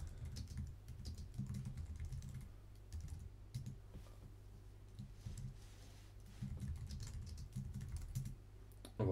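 Soft, rapid keystrokes on a computer keyboard as a name is typed in, quiet, close clicking in uneven bursts with brief pauses.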